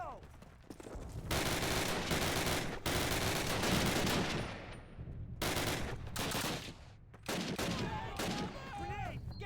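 Dense gunfire in a video game war campaign, with rapid bursts of rifle and machine-gun fire overlapping in a loud, sustained fusillade, briefly broken by short pauses and shouted voices.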